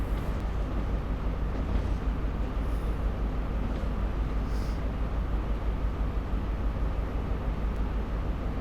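Train running in the Train Sim World 2 game, a steady low rumble of wheels and motor held at an even level throughout, with no talking.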